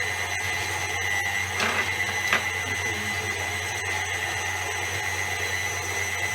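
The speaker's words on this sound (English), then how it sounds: "I'm just now going to feed the meat into the tube to make sausages." A homemade sausage maker runs with a steady, loud motorized whine and hum as meat is fed into the tube, with a couple of faint knocks over the constant drone.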